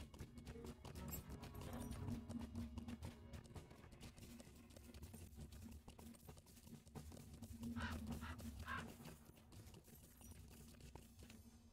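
Horse hooves clip-clop steadily in the LOTRO video game as a character rides through Middle-earth, a faint continuous rhythmic trot under a low steady hum.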